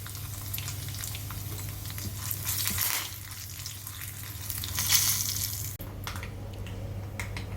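Dried red chillies, curry leaves and turmeric crackle and hiss in hot oil as a tempering for majjiga pulusu, a close, steady sizzle with no talk.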